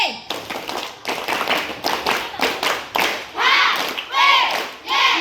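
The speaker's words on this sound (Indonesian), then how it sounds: "semua tepuk tangan" An audience at a school quiz competition claps hands in bursts of rhythmic, sharp slaps, loud and close, with voices calling out between and over the clapping.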